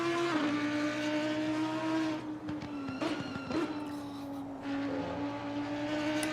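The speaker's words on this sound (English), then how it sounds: "Have a listen to Satchmo's V10 here." A V10 race car engine in Assetto Corsa Competizione at Catalunya holds a steady high drone through gear changes, with brief dips and shifts as the car accelerates and brakes during a league race.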